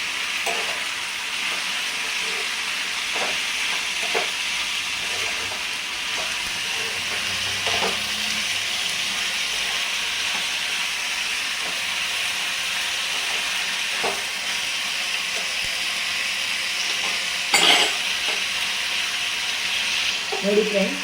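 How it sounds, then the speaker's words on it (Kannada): Tomato and onion fry in oil in a pan for mushroom sambar, giving a steady, close sizzle with occasional stirring scrapes and a brief louder burst near the end. "ಇವೆಲ್ಲ ಸ್ವಲ್ಪ ನೀರಿನ ಅಂಶ ಎಲ್ಲ ಹೋಗಿ ಚೆನ್ನಾಗಿ ಫ್ರೈ ಆಗಲಿ."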